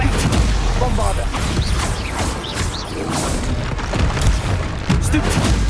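A Bombarda spell blasting in Hogwarts Legacy gives loud, booming explosive crashes and rumbling impacts that repeat across several seconds, with voices talking over the din.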